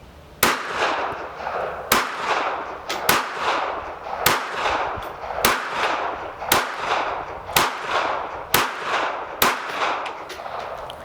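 A KelTec PMR 30 semi-automatic pistol firing .22 Magnum 50-grain jacketed hollow points, about ten sharp, loud, close shots at a steady, unhurried pace, each followed by a ringing echo tail, with no talk.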